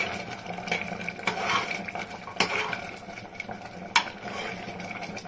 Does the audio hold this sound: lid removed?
yes